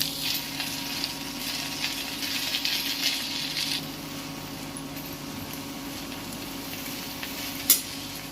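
Mint, coriander and curry leaves sauté in a pan for mint thuvaiyal, giving a soft continuous sizzle with light stirring and scraping early on, then quieter frying and a brief metallic clink near the end.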